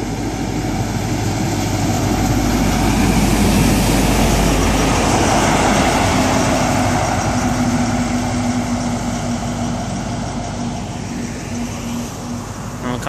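A train led by power car 43304 stands at a station platform, its diesel engine droning steadily and loudly with a low hum and broad roar that fades slightly toward the end.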